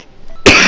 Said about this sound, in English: sorry for the coughing, guys, I'm strep throat